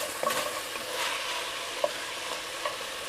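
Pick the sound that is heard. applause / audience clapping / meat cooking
meat cooking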